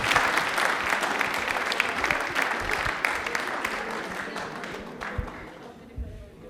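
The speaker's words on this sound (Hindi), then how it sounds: "तालियां एक बार जोरदार मैम के लिए हो जाएं" Studio audience applause on a televised quiz show rises as a dense, sustained clapping that slowly fades toward the end.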